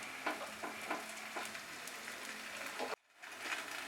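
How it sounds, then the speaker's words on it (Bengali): Lachha paratha fries in oil on a hot griddle, giving a steady, close, crackling sizzle with small pops; the sound drops out briefly near the end and then resumes. "সাধারণ আমরা যেরকম পরোটা ফ্রাই করি সেই রকমই কিন্তু পরোটাটা ফ্রাই করতে হবে।"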